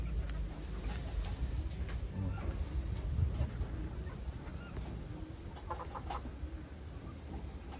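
Blue bar pigeons from Taiwan coo and flutter softly in a loft or cage, a low continuous murmur of birds with occasional faint rustles, somewhat distant and quiet, with no talking.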